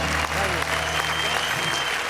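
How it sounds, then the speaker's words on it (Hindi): Studio audience applause at a televised poetry show, a dense, steady wash of clapping that holds for the whole stretch, loud and close. "इस स्टूडियो में बजती हुई तालियां और देश भर के हर घर में बजती हुई तालियां ये बता रही हैं"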